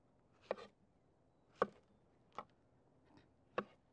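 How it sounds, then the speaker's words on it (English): Bananas being cut into pieces for the grill make four sharp, separate knife chops on a board, spaced about a second apart, fairly faint against a quiet background. "Let's get some bananas cut here."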